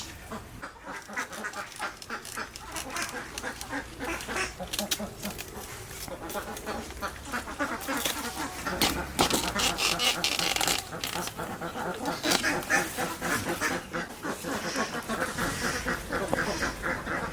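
A flock of ducks quacks continuously nearby, a busy overlapping chatter, with occasional voices mixed in.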